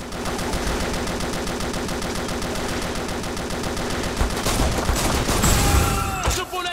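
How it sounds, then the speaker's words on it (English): Loud, steady machine gun fire rattles in an evenly spaced stream in 50 Cent: Blood on the Sand, with heavier impacts and bangs breaking in near the end. "Machine gun!"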